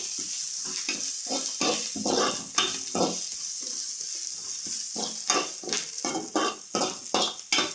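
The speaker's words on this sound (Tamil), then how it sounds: "பச்சை மிளகாய் போட்டு நல்லா வதக்கலாம்" Grated carrot and green chilies sauté for village-style egg fried rice. A utensil stirs and scrapes against the pan in quick, irregular strokes over a soft, steady sizzle.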